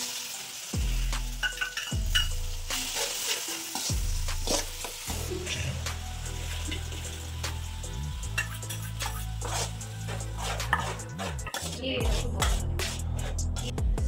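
Red chillies and curry leaves sizzle in hot oil in a cooking pan while being stirred, a steady close crackle broken by repeated scraping and clinking of the utensil against the pan.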